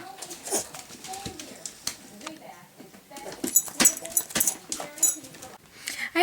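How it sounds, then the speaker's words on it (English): A dog whines and makes short, excited vocal sounds in bursts, with a few sharper yips; a person talks quietly in between. "That was my dog Murphy."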